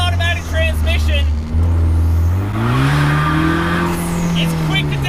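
A 2020 Vanderhall Carmel three-wheeler's turbocharged engine, with automatic transmission, pulls hard and climbs steadily in pitch after a quick downshift, loud and close with road and wind noise underneath.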